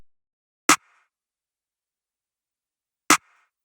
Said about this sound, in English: I'm calling it the snare clap because it's a snare plus a clap.